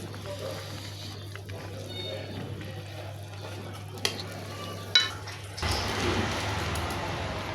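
Rohu fish pieces go into a simmering curry of raw tomato and potato. A low steady hum gives way to a loud, continuous sizzle partway through, with a couple of sharp knocks just before.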